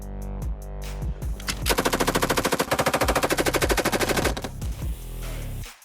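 M249 machine gun firing on a qualification range: a few single shots, then a long rapid automatic burst of evenly spaced loud reports, trailing into a few more shots and fading echo.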